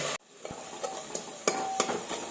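A ginger, garlic, coriander and chili paste is stirred in a pan, with a soft continuous sizzle and a few light spoon scrapes and taps against the metal.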